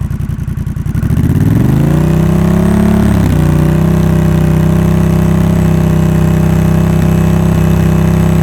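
A 2021 Honda Rebel 1100 motorcycle fitted with a Coffman's Shorty exhaust fires up, its engine climbing in pitch before holding a loud, steady high rev near 4,000 RPM, close by, with no talking.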